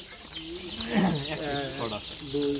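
Deshi chickens cluck on a poultry farm, repeated close clucks with someone talking over them.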